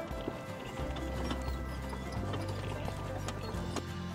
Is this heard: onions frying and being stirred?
no